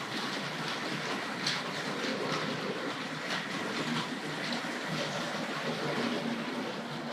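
A Hornby Dublo 2235 West Country Class model locomotive, Barnstable, pulls green coaches through curves and points on a model railway, giving a continuous close rumbling clatter with no talk.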